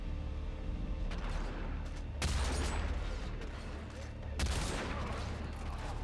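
Bursts of gunfire in the video game Hitman Absolution, a prison-district firefight, with two loud volleys over a constant low rumble and scattered shots throughout.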